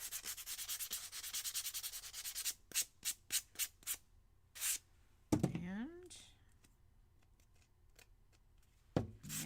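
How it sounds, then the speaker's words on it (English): Sandpaper of different grits rubbed over a piece from a DIY craft kit: a steady sanding stretch, then a series of short scratchy strokes and scattered rustles, close and fairly quiet, with a voice partway through. "I have these different sandpaper grits."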